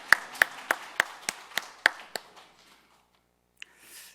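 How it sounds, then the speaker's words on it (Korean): A church congregation at a Thanksgiving Sunday afternoon service claps in thanks to God, sounding as a short run of about eight sharp, evenly spaced claps that fade out, followed by near silence. "감사와 영광의 박수를 한번 올려드렸으면 좋겠습니다."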